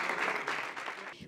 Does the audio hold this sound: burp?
no